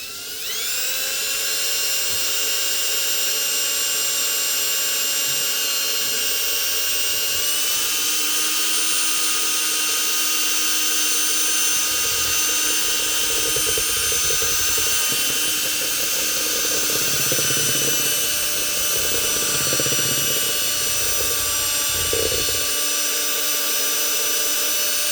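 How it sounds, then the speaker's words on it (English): A power drill with a mixing attachment whirs continuously while stirring epoxy resin for the final layer of a charcuterie board, a loud, steady high whine with slight changes in pitch and load partway through. "I'm just going to drill mix it."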